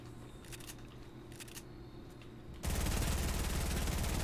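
Rapid P90 submachine gun fire in Fortnite, a fast, dense, loud burst of shots that begins partway through and continues steadily over a background of game ambience.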